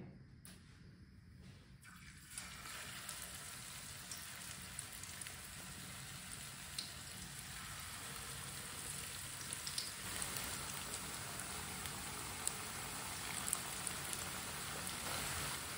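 Spoonfuls of pakora batter paste dropped into hot ghee, a dense, steady crackling sizzle that swells after a quieter start and holds close and even, with no voices.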